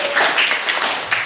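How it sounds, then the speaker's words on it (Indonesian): Schoolchildren in a middle school science class break into brief, loud, uneven clapping, with some irregular claps trailing off near the end. "Tepuk tangan"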